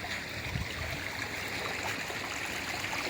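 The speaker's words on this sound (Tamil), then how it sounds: "இதுதான் அந்த மதகு, தண்ணி போகிற மதகு." Steady rushing water pours through a small sluice gate at a lake, a constant broadband flow with gurgling texture, close and continuous with no voices.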